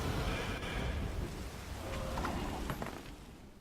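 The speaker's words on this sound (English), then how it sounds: "Torrential rain. So this is torrential rain." The torrential rain weather effect in the card game Gwent plays as a steady, hissing downpour over a low, rolling rumble, fairly quiet and continuous, with a few faint clicks near the end.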